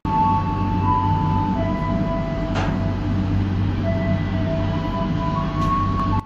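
Argo Cheribon passenger train pulls away from Haurgeulis station, a continuous low rumble with long whining tonal hums rising and shifting, plus a brief clank near the middle, heard from on board.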